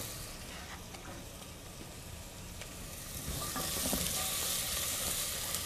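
Asparagus sautéing in a pan for rice pilaf, a steady hiss of frying that swells louder partway through as the pan heats up, with faint stirring underneath and no talking.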